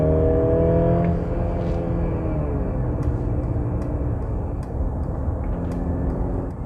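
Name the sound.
Mercedes GLC 300 SUV accelerating in sport mode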